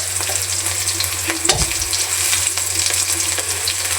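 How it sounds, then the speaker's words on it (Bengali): Chopped onions and green chilies with cumin and bay leaf sizzle loudly in hot oil in a pan, a close, constant crackle with a brief spatula stir scraping the pan midway. "তো কথা বলতে বলতে কিন্তু আমরা যে পেঁয়াজ, কাঁচামরিচ ভাজা হয়ে গেছে।"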